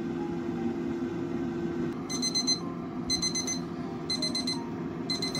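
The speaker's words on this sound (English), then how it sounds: "the temperature gauge is saying that the meat is done" A meat temperature gauge alarm signals that an air-fried steak is done, giving four bright, evenly spaced bursts of rapid electronic beeping over a steady low hum of the running air fryer.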